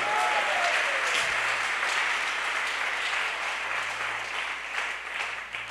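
Congregational applause during a French-language church service, a dense, sustained wash of many hands clapping at a steady level for several seconds, with a low hum beneath and no talking.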